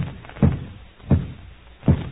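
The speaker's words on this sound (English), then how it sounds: "stop banging your head against the wall" Head banging against a wall in three dull, heavy thuds, evenly spaced, close and muffled, with a low-fidelity old-radio sound and no talking.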